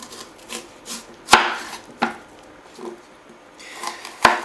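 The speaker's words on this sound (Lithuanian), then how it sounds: "susipjaustume svogūną" A knife, blade wetted with water, cuts through an onion on a board: a handful of sharp, irregularly spaced chops up close, with a few heavier strikes standing out against a quiet kitchen.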